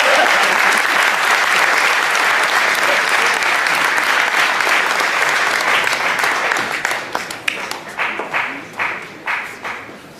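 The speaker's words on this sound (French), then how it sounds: "On peut encore applaudir de temps qu'il monte, s'il vous plaît." At a Paris community tournament ceremony, an audience applauds loudly and densely, then the clapping thins into scattered individual claps and fades near the end.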